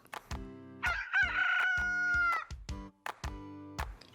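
A loud, drawn-out rooster crow rings out over a rhythmic, plucky music track with short accented notes, from a Ukrainian children's cartoon.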